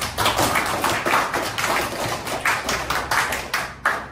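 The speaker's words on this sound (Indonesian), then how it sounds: "kasih tepuk tangan untuk teman kalian" A classroom of students claps for a classmate after a gamelan presentation, a brisk burst of close, loud hand claps in quick rhythm, ending in a single final clap.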